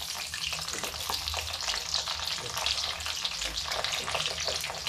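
Small okra pieces fry crisp over low heat in a pan, giving a steady, moderately loud sizzle with soft stirring and scraping underneath, without a pause.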